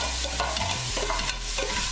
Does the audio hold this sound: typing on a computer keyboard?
no